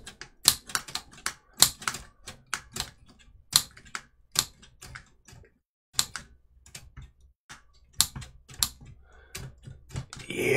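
Keys strike on an antique Remington Remette typewriter, giving crisp metallic clacks in irregular clusters with short pauses, close and distinct with no talking.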